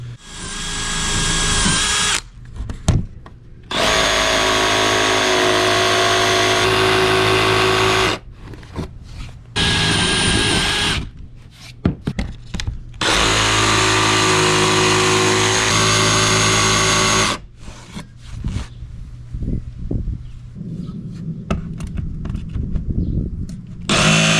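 A power saw cuts a transom piece free from a sheet of plywood in loud bursts of buzzing, each lasting several seconds, separated by short pauses and quieter stretches of handling noise.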